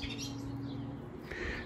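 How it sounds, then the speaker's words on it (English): Birds chirp and tweet close by in short bursts over a steady low hum of background noise. "There's some noisy birds nearby as well"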